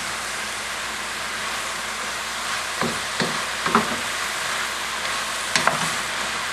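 Mushrooms and onions sizzle steadily in a pan for a ragu, a constant close frying hiss broken by a few quick scraping stirs and taps of the utensil, with no voices.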